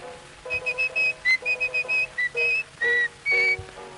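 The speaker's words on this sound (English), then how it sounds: "The boy sneaked up and whistled in his ear." A person whistles a bouncy song melody in short, crisp phrases with brief gaps between notes, close and clear with nothing else behind it.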